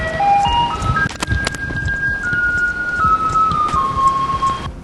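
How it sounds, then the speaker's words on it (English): A Taiwanese garbage truck plays its loud tinkling melody in a stepped, rising tune that repeats steadily outdoors, with a few sharp clicks and street noise underneath. "now we're having to chase the garbage truck twice a day."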